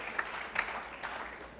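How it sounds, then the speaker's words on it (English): Audience at an annual meeting applauding, a faint, steady patter of clapping heard from a distance with no talk over it. "Please join me in a round of applause."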